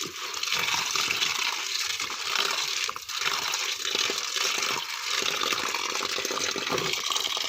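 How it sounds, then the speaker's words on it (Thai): Water runs from a tap over sunflower seeds being rinsed for sprouting, a steady close gush with sloshing and rattling of seeds throughout. "เราเปิดน้ำใส่ ล้างสัก นี่ครับเราล้างสักสองน้ำ"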